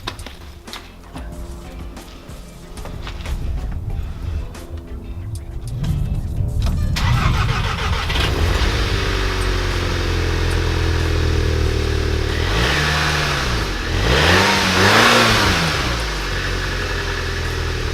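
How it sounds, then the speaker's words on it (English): A 2014 VW GTI Wolfsburg Edition, a turbocharged four-cylinder, cold-starts after a few clicks and quiet seconds, then settles into a steady idle with several rising and falling revs near the end, close and loud, with no talking. "I wouldn't be a proper car vlogger if I did do a cold start"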